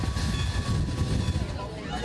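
An early 20th century steam train runs on the Strasburg Railroad, its loud, steady rumble and rattling cars filling the air close by, with a faint whistle tone sustained above the din.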